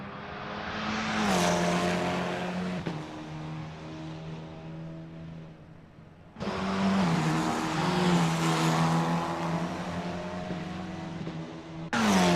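Formula 4 race car lapping Bathurst in Assetto Corsa, engine droning loudly and steadily with pitch rising and falling through gear changes, a sharp drop near the middle, then a fresh surge of revs.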